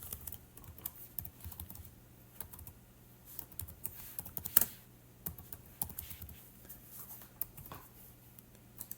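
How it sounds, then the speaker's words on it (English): Typing on a computer keyboard, a quiet, close run of irregular key taps with a slightly louder clack midway and no talk. "I'm gonna type"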